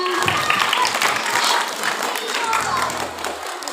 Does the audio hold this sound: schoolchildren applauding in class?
yes